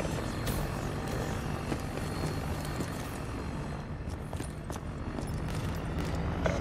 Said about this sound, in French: Drone de brouillage allié en approche.